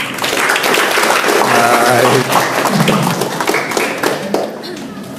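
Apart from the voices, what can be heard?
audience applause at a seminar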